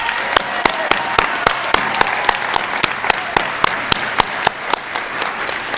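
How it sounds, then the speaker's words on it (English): Applause for graduating academic scholars at an online academy high school graduation, sustained clapping from an audience, punctuated by regular sharp, loud claps that stand out near the microphone. "Let's give these academic scholars another round of applause."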